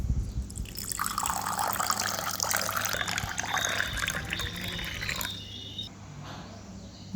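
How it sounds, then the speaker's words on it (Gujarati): Water pours and trickles into a homemade coconut shell cup, a close liquid splashing and gurgling that runs for several seconds before tapering into quieter dribbles, with no speech. "ચલો આમાં પાણી પી લઈએ"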